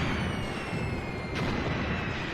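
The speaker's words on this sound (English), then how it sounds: "Okay, my mortars are also firing in support. Oh, okay, that was the 15 centimeter gun." Mortars and a 15-centimeter artillery gun fire in the wartime strategy game Graviteam Tactics, thudding booms rolling under a constant rumble of battlefield noise, with a sharper report near the middle.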